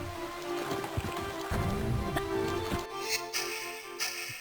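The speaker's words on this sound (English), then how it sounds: "We hold the action button, she'll rev the engine and go even faster." A motorboat engine drones steadily in Tomb Raider 2 Remastered's Venice level, with water sloshing around the hull and a few sharp knocks and splashes near the end.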